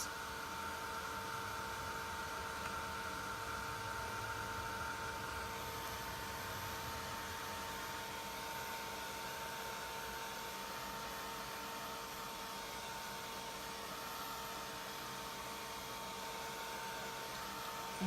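A heat tool or dryer blows on watercolor paint spatters, a steady close whirring drone that runs unbroken and stays even in level.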